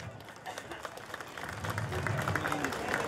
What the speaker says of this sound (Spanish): quienes reciben un aplauso, por favor